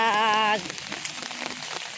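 Steady rain patters on a hard surface, with a brief tonal note at the very start that fades into continuous dripping and splashing.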